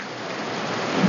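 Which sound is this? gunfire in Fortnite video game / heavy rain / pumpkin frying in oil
heavy rain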